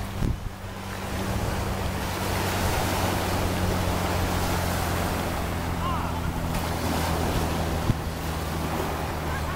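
Ocean waves washing onto a beach, a steady broad rush of surf mixed with wind buffeting the microphone and a low engine-like hum underneath, continuous and fairly close.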